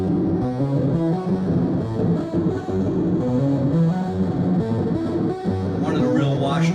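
Heavily distorted, reverb-soaked music plays continuously, with a dense, washed-out pulsing texture and no pauses.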